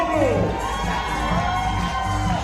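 Spectators at the 2019 World Para Archery Championships W1 medal matches cheer and whoop steadily, a lively crowd roar with shouts and whistles carrying throughout.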